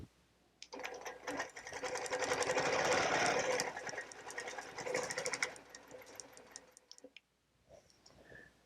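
A sewing machine stitching in the ditch on a quilt, a close whirring run of rapid ticking stitches that builds, holds for a few seconds, then slows and stops, followed by a few faint clicks.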